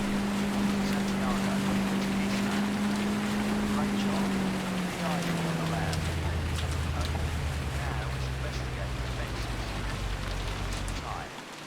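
A motorboat engine in Arma 3 drones steadily, its pitch shifting lower partway through, with a hiss of rain or water spray underneath.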